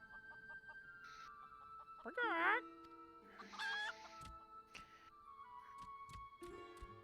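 A video game chicken clucks and squawks in a few sharp bursts over a soft musical backdrop, the calls standing out clearly and loud.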